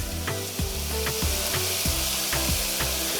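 Shallots and garlic sizzle and fry in a pan for curry chicken, a loud steady crackle broken by rhythmic scraping stirs of a utensil, with no talking.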